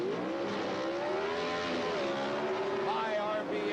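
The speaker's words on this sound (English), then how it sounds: "High RPM as they both leave the line together." Drag racing cars launch side by side at high RPM, a Dodge and a Chevrolet Monza with small-block engines at the 1979 NHRA Gatornationals, giving a loud, continuous engine roar with rising and wavering pitch throughout.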